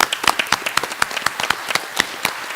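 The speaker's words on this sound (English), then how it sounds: "So I want to give that a round of applause." Scattered, uneven clapping from a small audience at a county board of education meeting, a few dozen sharp hand claps over a few seconds without much sustained roar.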